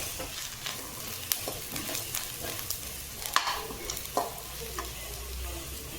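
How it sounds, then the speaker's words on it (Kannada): Food sizzles and crackles in a hot pan while frying for egg masala, with scattered scraping and stirring clicks over a steady hiss, close up and fairly quiet. "ಚೆನ್ನಾಗಿ ಫ್ರೈ ಮಾಡ್ಕೊಳ್ತೀನಿ."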